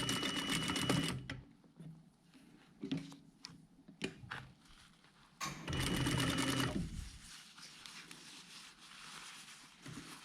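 Sewing machine stitching a jacket body lining seam, in several short bursts of rapid mechanical rattling separated by pauses and faint handling clicks.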